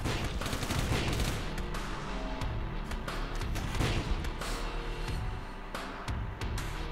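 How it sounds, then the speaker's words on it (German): Rapid machine gun fire from a heavy gun emplacement in the video game Final Exam crackles in dense continuous bursts, loud and close, with only brief breaks. "Es hat Maschinengewehr."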